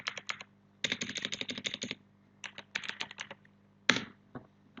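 A terminal command is typed on a computer keyboard in quick clustered bursts of crisp, close key clicks separated by short silences, ending with a single sharper, harder keystroke.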